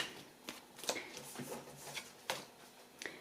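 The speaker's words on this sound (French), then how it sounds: "je range bien sûr les cartes puisque il va falloir que je les remélange pour les sagittaires" Tarot cards are gathered and reshuffled by hand in quiet, close riffles and flicks, a series of soft papery snaps at an uneven rhythm with no talk.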